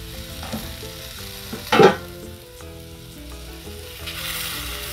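Fries cook on a 22-inch Blackstone griddle with a steady, moderate sizzle. A brief louder scrape or clatter comes near the middle, and the sizzle swells slightly toward the end. No one speaks.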